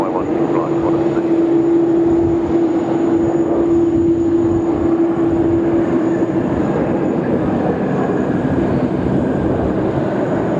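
A Jetstar airliner on the runway at Sydney Airport gives off a steady, continuous roar of engine noise with a sustained whine running through it, loud and unbroken throughout.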